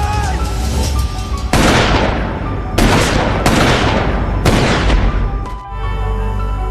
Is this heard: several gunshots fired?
yes